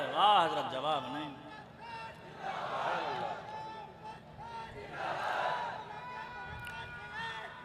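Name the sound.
crowd shouting slogans at religious speech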